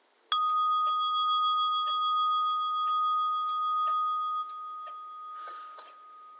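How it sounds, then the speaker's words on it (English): A meditation bell is struck once and rings out in a clear sustained tone that slowly fades, with faint soft taps and a brief rustle near the end in an otherwise quiet room. "It will start with the sound of a bell and conclude with the sound of a bell"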